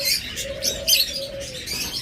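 Small pet parrots such as lovebirds or cockatiels chirp in a cage, with several bright, high twittering calls overlapping in a busy chatter over a faint steady hum, no voices present.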